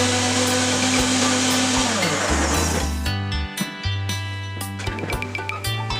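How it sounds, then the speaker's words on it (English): A kitchen blender whirs loudly as it purées beetroot pulp with half a cup of water, its motor pitch dropping and stuttering as the mix thickens, then pulsing in short bursts. "Transfer beetroot pulp again in blender and add ½ cup water and blend it again."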